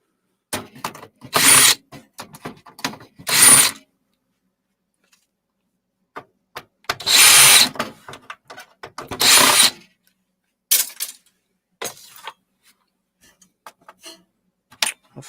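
Several short bursts of a power drill driving screws during scrap work, each whirring run separated by pauses, with a few faint clicks and taps in between; no talking.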